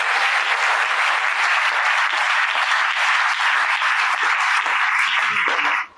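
A church congregation bursts into loud, sustained applause praising Jesus, a dense wash of clapping from many hands that cuts off abruptly at the end.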